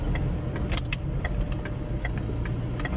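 A car engine rumbles low and steady while pulling into a parking space on the right, with faint, regular light ticks over the hum and no voices.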